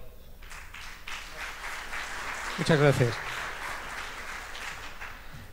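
Audience applause at a university ecology symposium in Spain greets a speaker from Salamanca after the introduction, a steady wash of clapping that peaks briefly midway, while someone speaks over it at the end.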